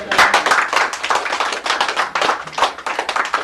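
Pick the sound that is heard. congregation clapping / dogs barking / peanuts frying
congregation clapping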